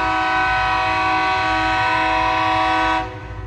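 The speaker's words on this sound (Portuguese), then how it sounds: "trem chegando em Rolândia nesse domingo" A freight train drawn by five locomotives arrives at Rolândia with a loud, sustained horn blast of layered tones over a deep rumble, and the horn cuts off near the end.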